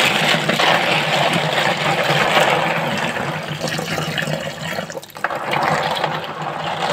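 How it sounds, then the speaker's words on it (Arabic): Water pouring steadily from a tap while clams are rinsed, a continuous rushing splash that briefly shifts midway, close by with no voices. "لازم تغسليه تحت ميه جاريه كده."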